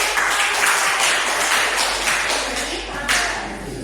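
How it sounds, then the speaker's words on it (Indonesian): A class claps hands together during a micro-teaching lesson on Indonesian traditional dress, a dense, even patter of many hands that fills the room for several seconds. "beri tepuk tangan"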